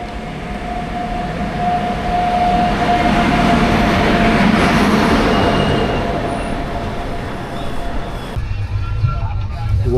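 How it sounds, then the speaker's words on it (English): A passenger train arrives at a platform in India, a loud steady rumble of wheels and carriages rolling in close by, with a faint horn-like tone, easing off before the sound cuts near the end. "This is my train, it has arrived."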